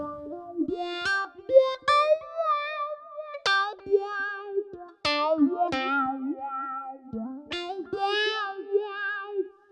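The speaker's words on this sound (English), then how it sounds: "this is Chapman stick lead kind of sound" A bright, synth-like Chapman stick lead melody from Spectrasonics Trilian, with plucked, gliding notes with vibrato and echo, played alone in short phrases.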